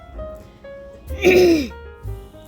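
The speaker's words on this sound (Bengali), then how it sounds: "কাশি হচ্ছে প্রচুর পরিমাণে, শ্বাসকষ্ট হইতেছে" One close, harsh cough or throat-clearing burst from someone unwell and short of breath, set against quiet room tone with faint knocks.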